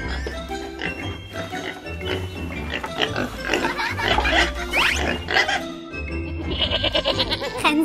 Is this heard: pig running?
yes